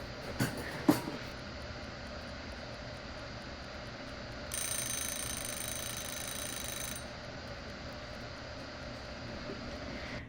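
A kitchen oven timer goes off while banana muffins bake, sounding a continuous high electronic beep for a couple of seconds over quiet room noise, after a few small clicks.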